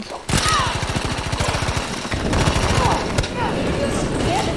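Rapid bursts of automatic gunfire from a Battlefield V multiplayer match, loud and close, with steady rattling volleys under speech.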